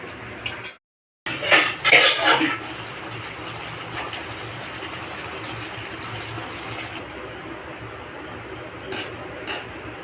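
A cooking pot of pumpkin-stalk curry is lifted off the stove with a short flurry of metallic clanks and scrapes, followed by a steady hiss of burner and kitchen background.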